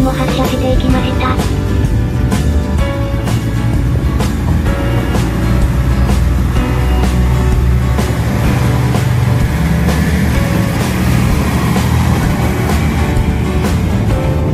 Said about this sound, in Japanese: そして反対の鴨駅も発車していきました。